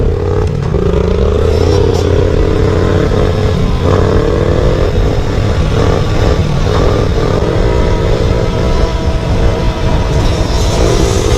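A dirt bike revving hard as it pulls a wheelie, its loud, close engine roaring continuously with some rattling clatter.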